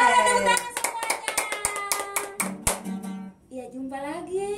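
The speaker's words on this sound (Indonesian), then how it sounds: "Suara tepuk tangan semuanya." Children and teachers at an online Sunday school service in Jayapura clap their hands in a lively run of quick claps, mixed with voices speaking and singing before and after.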